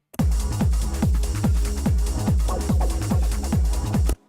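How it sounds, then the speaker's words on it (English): A full drum loop in an Ableton mixdown plays with the ride cymbal left without a transient shaper. A steady kick pulse and a constant cymbal wash run loud and dense for about four seconds, then stop abruptly. "So without the transient shaper, it sounds like this, the rides."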